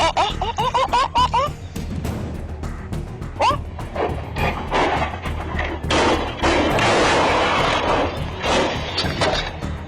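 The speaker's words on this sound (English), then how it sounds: "the building right in front of it suddenly collapsed" A building in Staffordshire collapsing after a gas explosion, with loud crashing and rumbling debris amid sharp bangs, with brief chirping or yelping sounds early on and a dense roar of falling material building toward the end.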